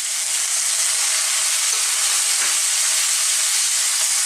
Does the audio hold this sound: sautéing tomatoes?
yes